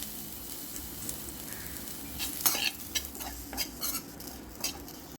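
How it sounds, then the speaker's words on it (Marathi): Onion and coconut sizzle and fry in a kadhai for gravy while a spoon scrapes and stirs, producing intermittent clinks over a steady crackle. "तर कढईत टाकले मी कांदा आता ग्रेव्हीसाठी आणि थोडंसं खोबरं सोबत भाजून घेऊया आपण."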